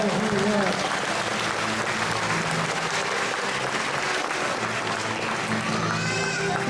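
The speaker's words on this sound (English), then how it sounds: "Let's give that hawk a round of applause." A crowd at a SeaWorld San Antonio bird show applauds a flying hawk. The clapping is broad and steady throughout, with cheering and talk mixed in, and a voice comes in near the end.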